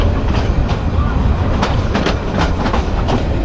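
Nazirhat local train running on rails out of a junction near Chattogram, a steady loud rumble with faint rhythmic clicks of the wheels throughout.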